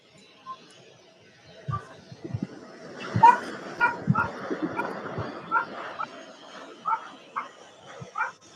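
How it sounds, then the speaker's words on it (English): A dog barks, yips and whimpers in short bursts that grow more frequent partway through. The bursts are close and fairly loud, and a person talks at times underneath, near a live airport runway broadcast. "I need him to stop barking."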